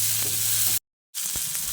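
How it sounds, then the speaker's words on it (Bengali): Chopped tomato frying with tempered spices in a pan, a steady close sizzle broken by scraping stirs, cut by a brief silent gap before the frying and stirring resume. "টমেটোটাকে দিয়ে ফোড়নের সঙ্গে 2-1 বার ভালো করে নেড়ে চেড়ে নিতে হবে।"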